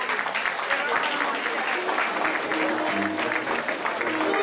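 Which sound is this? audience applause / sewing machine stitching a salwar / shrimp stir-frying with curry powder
audience applause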